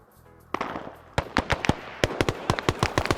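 Gunfire in a military video game, starting with one sharp shot, then bursts of rapid, loud cracks coming in irregular clusters, close and punchy.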